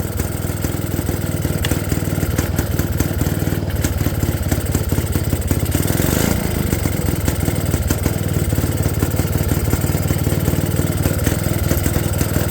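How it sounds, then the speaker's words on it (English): A 1966 Puch Allstate motorcycle engine with an aftermarket Amazon carburetor runs steadily after a kick start, a loud, close, continuous idle with a rapid mechanical putter and clatter and no voices. "About third kick, it fires up and runs."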